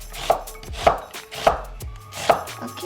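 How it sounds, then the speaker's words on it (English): A knife slices through onions on a board in four distinct, evenly spaced chops with soft rustles between them, close up with no talk. "Okay, so that's how you chop the onions."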